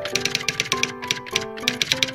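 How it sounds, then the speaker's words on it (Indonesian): Rapid keyboard typing, a quick irregular run of sharp clicking keystrokes close up with short pauses between bursts, alone without voices. "mengetik"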